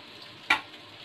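Onions fry in hot oil over a medium-high flame for chicken jalfrezi, a steady soft sizzle with one sharp, brief clatter partway through.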